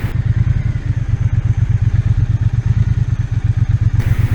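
A motorcycle engine rumbles steadily and close with an even, throbbing pulse, as if recorded from the bike while riding. The level holds loud and constant throughout.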